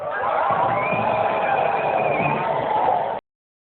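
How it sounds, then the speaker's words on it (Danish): Crowd cheering and whooping at the Roskilde Festival naked run as about 30 runners appear, a steady, dense roar of many voices held at an even level from start to finish before cutting off abruptly. "Og de 30 deltagere blev mødt med jubel"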